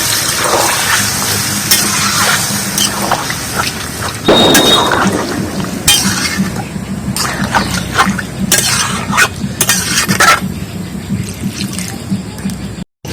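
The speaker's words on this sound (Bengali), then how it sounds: "এতে পরিমাণ মতো একটু জল দিয়ে দিচ্ছি" Water poured into a pan of frying cauliflower curry crackles and hisses in a dense, rain-like wash, with brief sharp spikes and a steady sizzle continuing throughout at close range.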